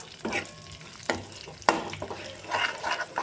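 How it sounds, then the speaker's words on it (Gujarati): Mustard seeds and asafoetida sauté in hot oil, giving a crackling sizzle with several sharp bursts as the pan is stirred, close and fairly loud. "અડધી ટીસ્પૂન રાઈ પાંચ ટીસ્પૂન હિંગ હવે ફ્રેન્ડ્સ આપણે સાતડી લેશું"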